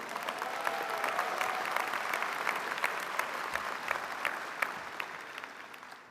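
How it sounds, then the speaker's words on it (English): MBA graduates clapping for themselves at a spring business school commencement ceremony, a dense wash of applause that holds steady and then slowly thins out. "you should clap for yourselves"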